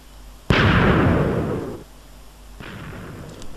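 A cannon fires in a block-building video game with one sudden loud boom that rumbles and fades over about a second, followed by a softer second burst.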